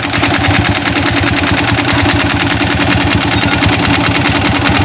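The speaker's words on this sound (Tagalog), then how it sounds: "pakinggan natin ang tunog nitong makina ng Yamaha Sniper 155 kasi napakaingay" A very noisy Yamaha Sniper 155 motorcycle engine idles steadily and loudly up close, its rapid rhythmic chugging unbroken throughout.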